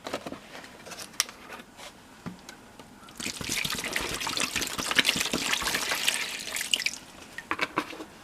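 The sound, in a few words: water being poured into a jug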